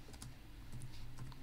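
Soft, quick clicks of a computer keyboard come in a short run of light, close keystrokes over a low, steady background hum.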